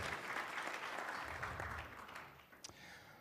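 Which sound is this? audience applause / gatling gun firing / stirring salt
audience applause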